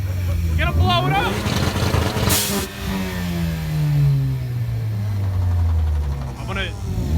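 Several Ford Focus ST engines rev at a car meet rev competition, loud close revs rising and falling in long sweeps, overlapping blips and a brief burst of crackle, with voices in the background.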